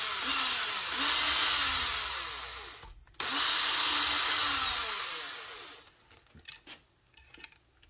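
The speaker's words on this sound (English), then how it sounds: "we're just drilling through" A drill bores through brake band lining material clamped in place, marking hole positions for an Allis Chalmers 15-25 tractor restoration; a loud steady whine runs about three seconds, pauses briefly, resumes, then trails into scattered clicks and knocks.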